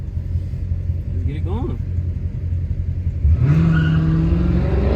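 Two Dodge SRT8 cars idle with a steady low rumble at a downtown street takeover, then one engine revs up sharply and holds a loud, rising roar; people talk in the background throughout.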